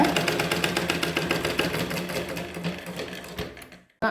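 A sewing machine stitches old nightie fabric in a fast, steady mechanical whir of needle strokes, stopping briefly near the end before starting up again.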